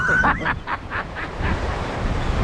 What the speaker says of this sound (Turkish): Ya burada korkunç bir hava var ya. Bakar mısınız deniz perişan olmuş.